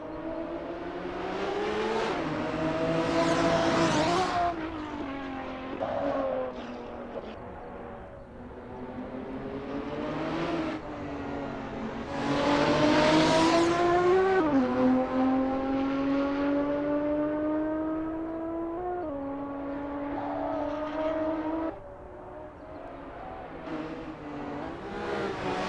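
Race cars warming up at the Nurburgring GP circuit in a racing game, engines revving and climbing through gears in long rising whines, several passes swelling and fading, loud and continuous.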